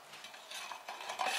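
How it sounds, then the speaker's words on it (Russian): A spoon stirs warm milk with yeast, sugar and flour in a bowl, making a soft, close, continuous swishing scrape with faint clinks and no voices. "Все хорошо перемешиваем и оставляем подходить опару."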